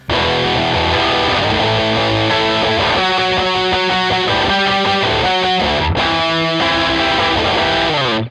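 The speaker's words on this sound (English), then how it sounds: "Next for the chorus is the overdrive distortion" An electric guitar played through an overdrive distortion pedal chugs out heavy, saturated chords in a driving rock rhythm, loud and continuous with no talking.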